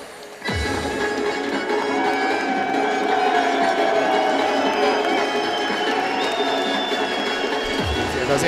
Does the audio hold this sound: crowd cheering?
yes